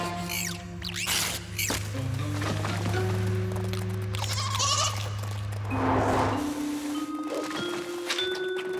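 Several cartoon goat bleats, wavering and nasal, overlapping with a sustained tonal drone and other background sounds, fairly close.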